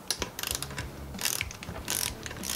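A hand ratchet snugs up the top end bolts on an 85-89 250R motor, bursts of quick clicking in short runs separated by pauses, close and clear.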